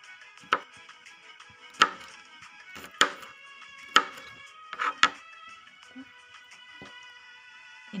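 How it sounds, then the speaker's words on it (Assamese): A knife chops garlic cloves on a cutting board in roughly seven crisp, separate strikes spaced about a second apart, close up with near silence between them. "এনেকেই গোটেই ৰচুন কেইফুটা মই এনেকেই কুটি ল'ম।"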